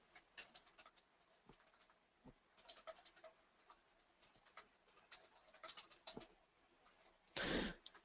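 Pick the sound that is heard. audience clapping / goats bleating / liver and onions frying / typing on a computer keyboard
typing on a computer keyboard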